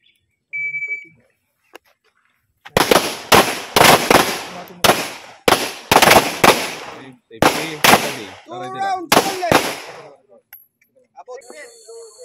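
Handgun shots fired during marksmanship training on a range: a quick string of loud, sharp reports in uneven bursts, each cracking out close and then decaying, with brief beeps at the start and end.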